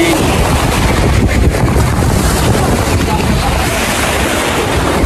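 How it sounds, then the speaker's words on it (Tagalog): Ocean waves break continuously along the shore by the sea, a loud, rolling surf wash mixed with heavy wind buffeting against the microphone. "narinig niyo po ang tunog ng mga alon"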